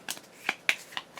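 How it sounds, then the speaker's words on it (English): A deck of game cards being shuffled at the table during a Gloomhaven session, heard as several quick, crisp riffling bursts in an irregular rhythm, close and fairly quiet. "Should shuffle up their deck."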